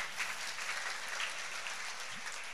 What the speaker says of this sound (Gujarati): જોરદાર તાળીઓ આ દીકરાઓ માટે